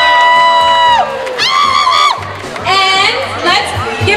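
An outdoor crowd at a Harrah's bikini pageant cheers and whoops for Mike Wink, loud bursts of shouting and high cheering that rise and fall in waves, with voices over the noise.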